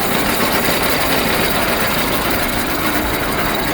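A tractor engine powering a heavy-duty geared winch through its PTO, running in a loud, steady, unbroken drone up close.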